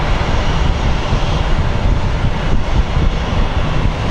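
Steady, loud airliner engine roar at Sky Harbor International Airport as a jet pushes back from the gate, a dense continuous rumble with no talking.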